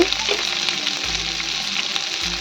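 Cashews, melon seeds and poppy seeds fry in a pan of hot oil with ginger for chicken chaap, giving a loud, continuous sizzling crackle with a low hum underneath and no voices.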